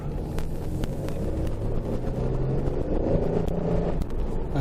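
A 1998 Firebird drives on a fall cruise with a steady, moderately loud engine drone and road noise. The sound stays constant with light wind buffeting and no one talking.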